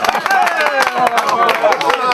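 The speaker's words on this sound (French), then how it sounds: "Ça t'applaudit, les gars!" Scattered audience claps ring out at an EITI presentation in Côte d'Ivoire. They are sharp, irregular and close, and a speaking voice runs over them throughout.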